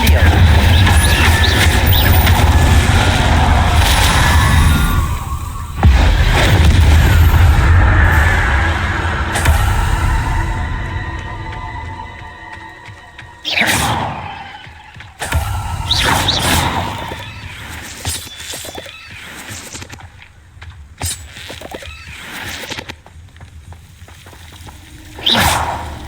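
Repeated Incendio fire spells cast in Hogwarts Legacy, bursts of whooshing, crackling combat effects amid a dense game soundscape with music, with several sharp spell impacts later on and speech over the mix.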